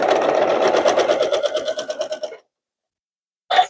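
Sewing machine stitching a quilt block seam, a fast rhythmic whirring run that slows and stops, then a brief restart after a short silence.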